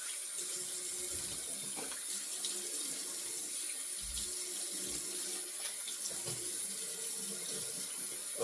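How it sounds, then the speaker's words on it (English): A bathroom tap pours a steady stream into a sink while a shavette razor is rinsed, with continuous close splashing and faint bumps of the razor under the flow. "We'll rinse."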